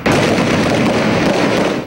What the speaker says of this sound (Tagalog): Umalingaw-ngaw ang putok ng mga baril.